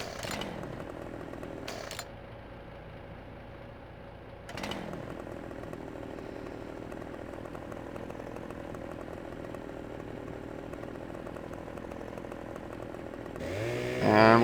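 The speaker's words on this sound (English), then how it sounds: "Get out the old chainsaw." A chainsaw runs steadily for cutting down a tree on a farm, a continuous buzzing drone with a few short rasping bursts early on and a louder rising rev at the end, alone without talk.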